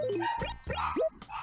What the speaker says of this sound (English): And that is my dog you'll hear barking.